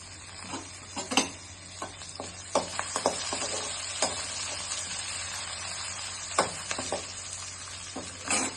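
Curry leaves sizzle as they drop into hot oil, a soft steady frying hiss broken by scattered sharp crackles and pops, close and fairly quiet with no voice.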